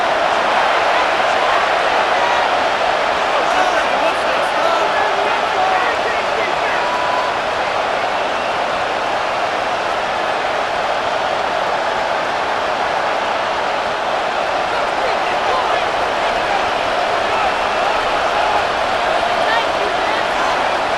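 A steady stadium crowd roars through a Madden NFL 26 AFC Championship simulation between the Bills and Chiefs, a continuous, even wash of distant cheering that holds at one level the whole time.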